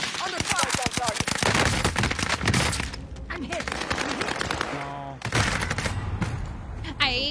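Rapid gunfire fills a video game battle, with dense automatic bursts and overlapping shots, loud and continuous, and voices talking over it.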